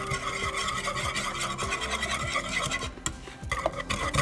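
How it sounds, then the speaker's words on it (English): Sugar and butter simmering over medium heat in a pan, stirred steadily with a utensil that scrapes and rubs against the pan, with a soft sizzle beneath. "We are just going to cook that, simmer it on kind of a medium heat until it all melts down together."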